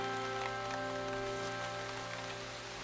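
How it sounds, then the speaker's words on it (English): Heavy rain pelting down on a garden in South Africa, a dense, even hiss of drops on surfaces that holds steady throughout, with no voices. "it's pelting with rain. Really, really wet."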